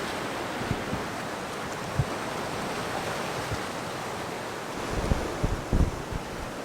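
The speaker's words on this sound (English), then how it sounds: "It was like this wave was coming for us" Ocean surf on a volcanic rock shore at Hilo on Hawaii's Big Island: a constant broad wash of waves and wind with a few thuds, swelling briefly toward the end as a surge breaks nearby.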